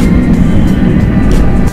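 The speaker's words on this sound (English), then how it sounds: "So there's planes constantly coming in." Jet airliners on final approach into O'Hare Airport in Chicago, a loud, steady low roar of an aircraft passing close overhead, continuous and dropping off slightly at the end.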